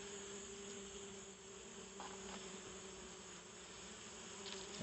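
Honeybees buzzing steadily around a foundationless hive, a dense, continuous hum of many wings close by, with a few individual bees droning louder as they pass near, no voices.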